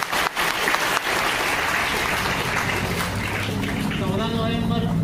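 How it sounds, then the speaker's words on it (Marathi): Children clap together in a dense, sustained burst of applause at a Children's Day school gathering, loud and close, with voices mingling in the crowd noise. "टाळ्या वाजवा"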